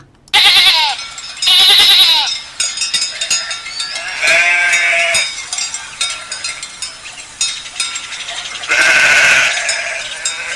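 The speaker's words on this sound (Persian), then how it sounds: "این بره است. بره." A lamb bleats loudly in several separate wavering calls, close and clear, with short pauses between them and no talk.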